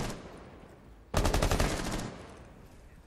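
Rapid automatic gunfire in Rainbow Six Siege, a loud sustained burst of roughly a second against quieter game ambience, with another shot starting right at the end.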